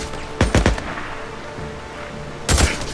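Gunshots in Days Gone, a quick cluster of three close, loud shots, then a lull with faint ambience before a final heavy shot near the end.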